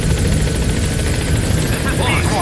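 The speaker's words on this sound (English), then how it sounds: "Landing zone. Roger. Dispatching chopper." A helicopter arrives at a landing zone in Metal Gear Solid V: The Phantom Pain, a loud, steady roar of rotor and engine noise that fills the whole stretch, with voices underneath.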